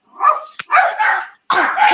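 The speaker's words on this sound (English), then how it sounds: "that dog barking" A dog barks close by and loud, three sharp barks in quick succession with brief yipping tones, each burst separated by a short gap.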